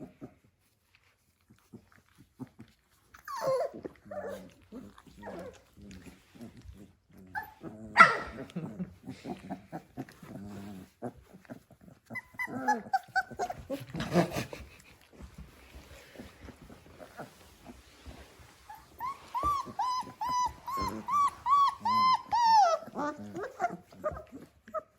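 Three-week-old puppies whimper and yip, giving scattered high whines and small squeaky cries close by that build into a run of rising yelps toward the end, with faint handling noise between.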